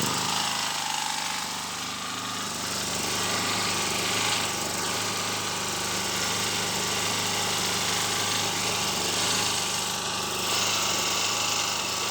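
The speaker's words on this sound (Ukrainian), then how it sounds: "Ну, а поки генератор тестується" A petrol generator runs steadily under test after repair, a loud constant engine drone with a buzzing mechanical whine that holds even for the whole stretch, no talking.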